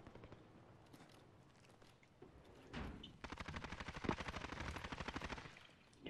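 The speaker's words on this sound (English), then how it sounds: "Hear gunshots, but I don't see anybody." Gunfire in the Call of Duty Warzone video game: irregular single shots at first, then rapid bursts of automatic fire that grow louder and denser, with no talk over them.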